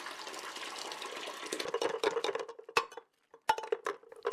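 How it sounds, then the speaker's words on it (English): Dishes being washed under running tap water, with a steady stream splashing and plates and cutlery clinking close by, pausing briefly before more clatter. "My day begins with a big load of washing up from the night before."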